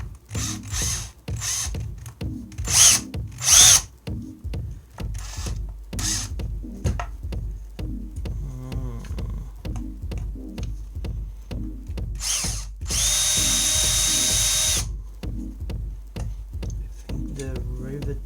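A drill working on the rivets of an Apple II Plus power supply casing, with repeated short bursts and clicks across the span, plus one longer steady whirring run near the end, all close by.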